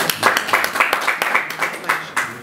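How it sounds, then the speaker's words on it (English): An audience clapping at a gospel music event at the Kennedy Center, a dense run of hand claps at steady loudness with a little crowd chatter mixed in. "All right, let's applaud her"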